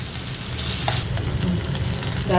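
Garlic chicken sizzles steadily in a pan, a dense crackling fry with occasional stirring scrapes, loud and close throughout with no voices.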